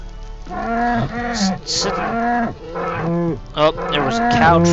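Cows in a Minecraft-style video game moo repeatedly, loud and close, several drawn-out moos overlapping one after another with no pause.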